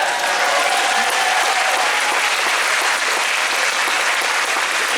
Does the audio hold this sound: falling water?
no